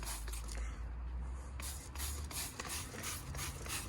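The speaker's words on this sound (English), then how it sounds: "So we'll give the fan barrel just a spray with a mild detergent." A spray bottle hisses in bursts close by, spraying mild detergent onto the fan barrel of a Daikin air conditioner indoor unit, with rubbing and faint mechanical clicks underneath.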